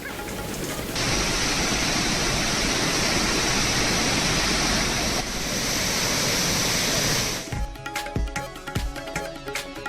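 Torrents of water gush from the Krishnaraja Sagar and Kabini dams in Karnataka during a 60,000-cubic-foot release, a loud, steady roar for about seven seconds before breaking into scattered splashing and rumbling.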